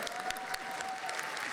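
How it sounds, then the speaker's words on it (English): A theatre audience at PAX East claps in a brief burst of applause, dense and even, with a faint crowd murmur underneath. "he deserves a round of applause"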